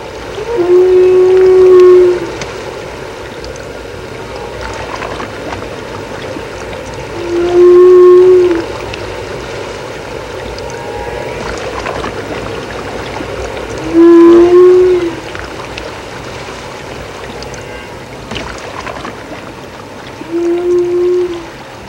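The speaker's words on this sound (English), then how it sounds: "from the ocean's depths comes the eerie sounds of the great whale's calls" Eerie humpback whale calls picked up by hydrophone in the deep ocean off its calving and breeding grounds, four drawn-out moaning tones spaced several seconds apart over a steady underwater hiss.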